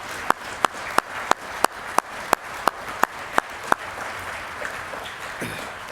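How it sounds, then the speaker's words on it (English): Applause for inductees at a university athletics Hall of Fame induction ceremony: a few sharp, evenly spaced claps stand out above a soft crowd wash, then fade near the end. "If we could have a round of applause for all of our inductees"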